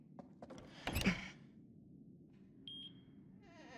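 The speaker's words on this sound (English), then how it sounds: "Oh, no, it's a heart monitor." A heart monitor in The Devil in Me horror game gives one short electronic beep, fairly faint, following a few dull thuds and a louder knock earlier.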